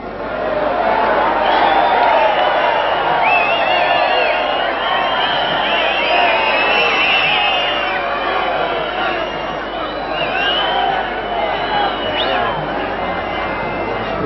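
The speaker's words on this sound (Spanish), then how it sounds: "el abucheo del público" A large crowd at a 1994 Davis Cup tennis tie between Uruguay and Argentina booing and jeering, a dense, loud, continuous roar of many voices with shouts and whistles throughout.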